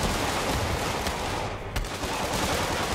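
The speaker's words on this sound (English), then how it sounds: "We got gunshots." Rapid bursts of gunfire crackle continuously in Marvel's Spider-Man video game, dense and overlapping like a fusillade, with a brief dip midway.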